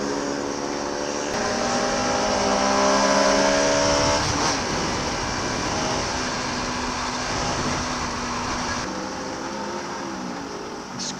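A Bajaj RS200 motorcycle engine revving during a ride, a steady loud droning whine that rises and holds with wind noise, close to the rider.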